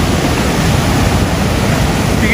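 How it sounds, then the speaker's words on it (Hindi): Fast-flowing river water in the hills near Odawara, Japan, a loud, steady broadband rush close by, with no talk over it. "स्पीड देख रहे हो पानी की गाइस"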